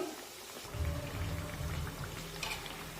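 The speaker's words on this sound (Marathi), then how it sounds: "आता वड्यांची दुसरी बॅच सुद्धा मी तेलामध्ये सोडलेली आहे आता हे वडे सुद्धा दोन्ही बाजूने छान सोनेरी रंगावर तळून घेऊ" Masoor dal vadas, a second batch, frying in hot oil: a steady, dense sizzle and crackle with no talk, holding at an even level throughout.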